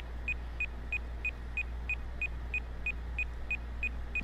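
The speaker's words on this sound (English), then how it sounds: "An alarm? Where was it coming from?" Alarm going off in the video game Judgment: a steady series of identical electronic beeps, evenly spaced about three per second, sounding alone over low background hum.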